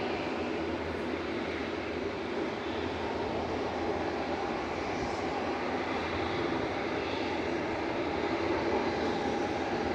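Ryanair airliner jet engines at Manchester Airport, a continuous broad roar holding steady at a moderate distance for the whole stretch with no talking over it.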